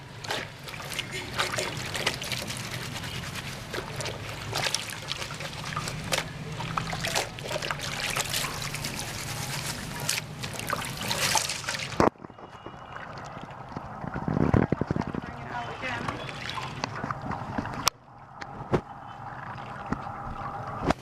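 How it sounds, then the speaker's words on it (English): Soapy laundry is rinsed by hand in water, with sloshing, trickling and splashing that carry on steadily, then quieter, more scattered dribbles after an abrupt cut, close and moderately loud, with no speech. "I'm going to rinse it instead of washing it again. So I'm just going to get all the soapy water out of it."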